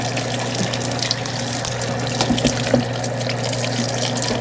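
Kitchen tap water runs steadily into a sink while cucumbers are rinsed, a continuous close hiss and splash with no talk over it.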